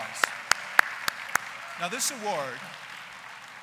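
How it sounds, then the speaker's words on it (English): A handful of sharp, evenly spaced claps open an award ceremony presentation, brief and fairly close, before a speaker's voice takes over with a chime-like tone in the background. "Let's give them a big round of applause."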